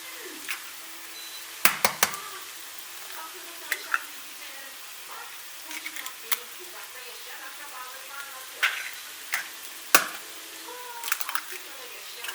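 Mushrooms sautéing in a frying pan give a steady close sizzle, with intermittent sharp scrapes and clacks of a utensil stirring them throughout.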